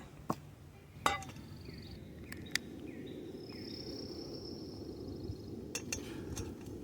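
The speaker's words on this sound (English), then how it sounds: "I've lit the stove, placed the pot right on top." A cooking pot from a mess kit is set on a lit camp stove and its cover put on, giving a few sharp metallic clinks over a steady burner hiss, with no talking.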